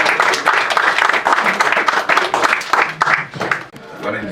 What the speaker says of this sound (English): let's give one more round of applause for Tiny.